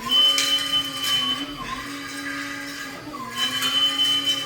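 An ES 1000 floor machine runs steadily up close with a continuous motor drone and whine, its pitch dipping briefly twice as it is steered by one hand.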